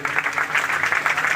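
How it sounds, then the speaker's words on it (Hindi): An audience claps steadily through a Shrimad Bhagwat Katha religious discourse at a temple in Tikri Khurd, dense, even applause filling the hall with no pauses. "जोरदार तालियां बजाइए इनके लिए।"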